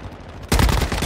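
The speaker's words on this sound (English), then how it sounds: "What are you shooting at, buddy?" Gunfire in the mobile shooter game Warzone Mobile: a sudden loud burst of rapid shots starts after a brief quiet moment and continues to the end.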